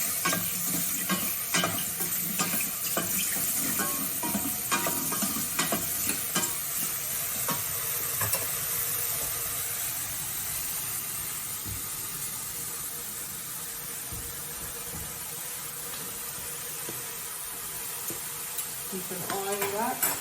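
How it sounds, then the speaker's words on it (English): Ingredients for miso soup stir and sizzle steadily in a hot pan, a continuous frying hiss with scraping stirs running throughout at moderate level, no talk. "And then just keep on stirring."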